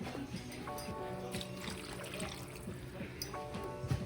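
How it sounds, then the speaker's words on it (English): About a cup of water pours into a pot of green beans, a soft continuous trickle and splash heard quietly up close, with faint tonal kitchen hum underneath. "I'm going to add in maybe about a cup of water"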